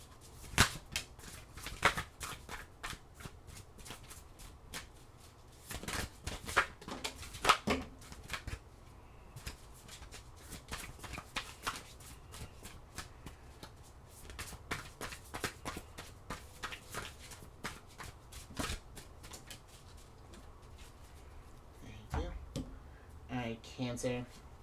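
Tarot cards shuffled and drawn close up, with brisk riffling bursts and sharp flicks and slaps of single cards, repeated throughout at an uneven pace.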